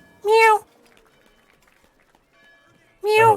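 A person playfully imitates a cat with two drawn-out vocal meows about three seconds apart, close and clear, with near silence between them.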